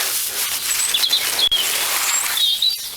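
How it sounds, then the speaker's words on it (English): Thin, high chirps and tweets from a flock of sparrows in garden shrubs come and go through a soft outdoor hiss, faint and somewhat distant, on a UK winter day. "We've got a gang of sparrows in the shrubs there behind the fig tree."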